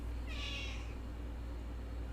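A house cat lets out one short, nearby meow over a steady low room hum, and the rest is quiet background.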